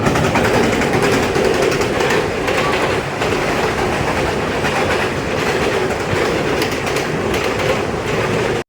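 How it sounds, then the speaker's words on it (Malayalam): Riding inside the Ernad Express passenger train toward Kozhikode, a loud continuous rumble with steady clickety-clack of wheels over rail joints, occasional faint squeals, no talk. "ട്രെയിനിൻ്റെ അകത്ത് കയറി പുറത്തുള്ള കാഴ്ചകളൊക്കെ കണ്ട്"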